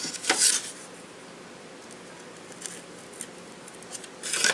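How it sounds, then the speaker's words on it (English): An X-Acto blade scrapes and cuts into a computer case, giving a few short scratchy strokes at the start and end, with faint rubbing between, close and fairly quiet with no talk. "let's try an X-Acto blade first and see how well that does"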